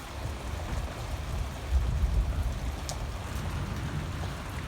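Light rain patters steadily outdoors in summer, a soft continuous wash with low rumbling booms of distant thunder rolling underneath, fairly faint overall.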